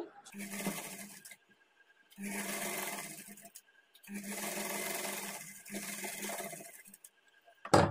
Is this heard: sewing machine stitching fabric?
yes